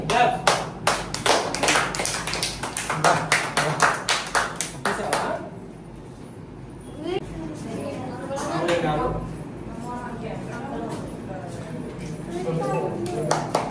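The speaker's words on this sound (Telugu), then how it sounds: "చప్పట్లు" A small group claps in quick, steady rhythm for several seconds, then the clapping stops and people talk and chatter at a Holi festival event meeting.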